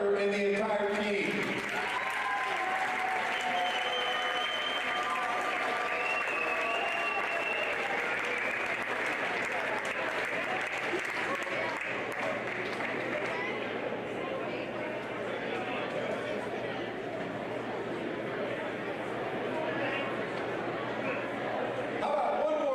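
A crowd at a college basketball game applauds the Tabor KCAC championship football team, with a sustained wash of clapping and cheering that fills the arena, while an announcer's voice is briefly heard at the start.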